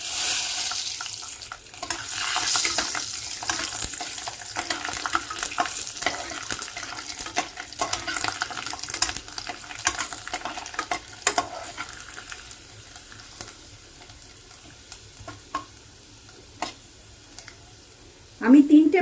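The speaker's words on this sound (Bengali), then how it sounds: "একটু ভাজা ভাজা হবে, জিরে ভাজার একটু গন্ধ বেরোবে, সেই পর্যন্ত আমি একটু নাড়াচাড়া করছি" Cumin seeds and 13-14 garlic cloves frying in hot oil while being stirred, cooked for an egg curry, giving a steady close sizzle with scraping stir strokes and a louder clatter at the end.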